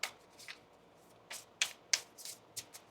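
A tarot card deck being shuffled by hand, a few sharp riffling snaps and soft card slaps spaced irregularly, close and quiet with no talk.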